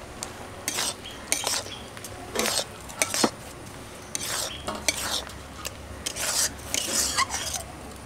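A spoon scrapes and clinks against a pan in bursts while green mango chutney is mixed with ground five-spice, irregular metallic strokes with faint sizzling between them, no voices.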